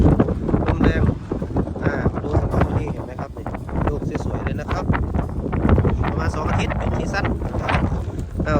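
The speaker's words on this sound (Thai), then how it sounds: "โอ้ลมแรงนะครับ" Strong wind roars across an open strawberry farm in Australia, buffeting the microphone with steady loud rumbling gusts throughout, while someone talks through the noise.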